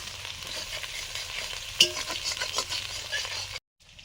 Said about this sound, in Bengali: মশলা ভাজার পরে জল দিয়ে দিচ্ছি